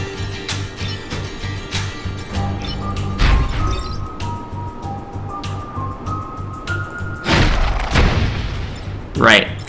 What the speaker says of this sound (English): Right, explosions.